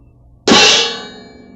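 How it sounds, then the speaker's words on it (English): A single loud crash cymbal flam struck and quickly pulled against the player's stomach, giving a sharp bright clang whose ring is choked off within about a second. "The staccato are executed the same way as the big crash, except you pull it into your stomach to muffle it right after you make the flam."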